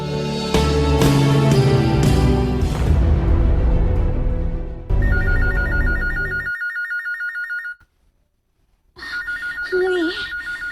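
A telephone bell rings loudly in repeated bursts, cutting off after a few seconds, then resuming after a short silence, heard alongside music and other sounds in a Cebuano-language program.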